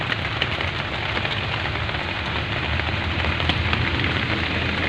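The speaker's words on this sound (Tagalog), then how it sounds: "Lumakas ang ulan mga kaibigan." Heavy rain falls continuously in a steady, dense hiss with scattered patter of drops on surfaces, loud and close throughout, with no voices.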